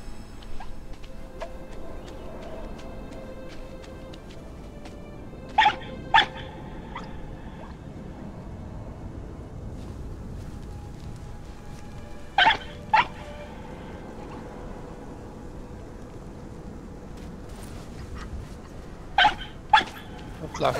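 A fox-like creature in the video game Rime gives sharp doglike barks in pairs of quick yips, recurring every several seconds over a steady ambient game soundscape.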